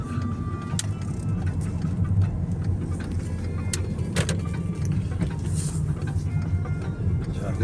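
A car is heard from inside while driving, with a steady low road and engine rumble throughout and occasional small clicks and rattles in the cabin.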